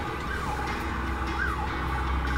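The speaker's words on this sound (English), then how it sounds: "Now we got some kind of ambulance going down the highway. There's a siren going like a crazy person." An ambulance siren wails along a highway, its rising and falling tone sounding somewhat distant over a steady rumble of traffic.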